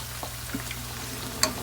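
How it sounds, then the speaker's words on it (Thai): Hot oil crackles and sizzles steadily as fish fries in a small pan, with a few sharp pops and spatters, and no voices. "น้ำมันก็กระเด็นไปจ้ะ"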